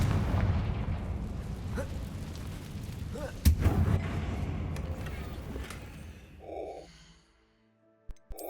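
A Confringo fire spell in Hogwarts Legacy erupts as a sharp, loud blast amid a dense, rumbling battle din, then the noise fades away toward near silence with a few small game sounds.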